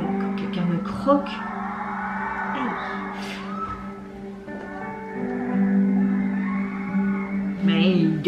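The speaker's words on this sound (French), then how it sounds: "Mais ils gueulent comme des putois." Fans at a K-pop fan festival concert in Singapore scream and cheer loudly, a sustained high crowd roar with a few sharper whoops rising above it throughout.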